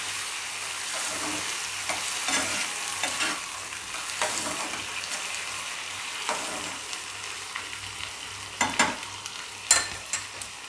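A gobi manchurian mixture stirred in a hot pan gives a constant bright sizzle, with scraping spoon strokes that come more often and louder toward the end, close by and with no talking.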